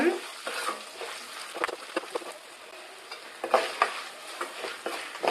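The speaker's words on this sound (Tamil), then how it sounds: "மஞ்சள் தூள் சேர்த்ததுக்கப்புறம் ஒரு டைம் நல்லா நம்ம கலக்கி விட்டுக்கலாங்க" Turmeric being stirred into a frying lemon rice tempering of garlic cloves, peanuts and curry leaves in oil, giving a steady close sizzle broken by repeated scraping spoon strokes.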